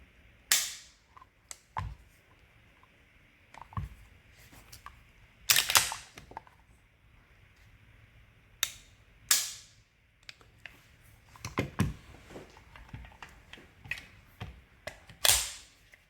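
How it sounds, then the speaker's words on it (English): Dry trigger pulls on an unloaded Staccato P pistol and a Bul Armory SAS2 Tactical Government pistol, done at a tabletop. Sharp, close metallic clicks and snaps come at irregular intervals, with soft handling noise between them and no talk. "So we'll do some trigger pulls and compare these two."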